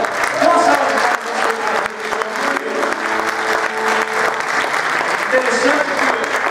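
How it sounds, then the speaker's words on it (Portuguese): A church congregation gives loud, sustained applause, many hands clapping steadily with crowd voices and cheering mixed in throughout. "Dá uma salva de palmas."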